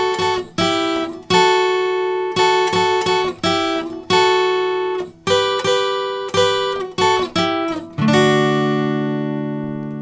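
Guitar plucks a song's lead line, close and clean, a series of bright picked notes in short phrases that land on a ringing final chord, with no voice over it.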